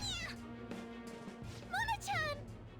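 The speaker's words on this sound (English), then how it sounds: "Will you shut up, you stupid cat?" A cat in the video game Persona 5 Royal gives several loud, wavering meows and caterwauls, two strong cries near the end, over a low hum and background game noise.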